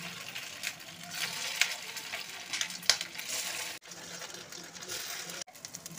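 Cut potato pieces frying in a pan, an even crackling sizzle with occasional sharp clicks of stirring, close and moderately loud throughout.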